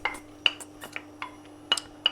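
Chopped citrus peel tipped into a saucepan of sugar water, giving a few scattered light clinks and knocks against the pan, moderately close, with no talking.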